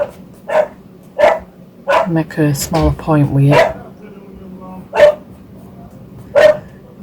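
A German Shepherd barks at someone arriving, sharp single barks spaced out over several seconds at moderate distance, with a person talking over part of it.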